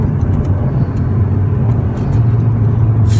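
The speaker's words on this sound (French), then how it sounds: "Mais tu l'entends le turbo." An Alpine A110 Légende drives with a steady, loud engine rumble heard from inside the car, a faint turbo whistle riding above the drone.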